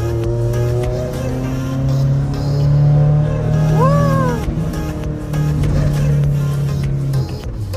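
A car driving along, heard from inside, with a steady low engine drone that swells gently and fades. A brief rising-and-falling whine cuts in midway. No one speaks.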